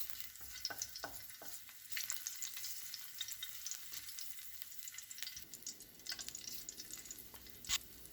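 Garlic, onion and corn sauté in a pan for an Ilocano corn and ampalaya leaf dish, sizzling steadily throughout with scattered stirring clicks and scrapes, no talk.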